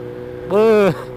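A 2020 BMW S1000R motorcycle engine gives a single short rev, rising briefly out of a steady idle hum and settling back down within about half a second, close and fairly loud.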